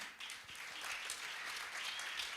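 An audience at an annual general meeting applauds to welcome the chief guest, a dense, even wash of many hands clapping at moderate volume throughout, with no speech.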